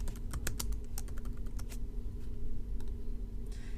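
Text being typed on a computer keyboard: quick, irregular key clicks in short bursts over a steady low hum. No one speaks.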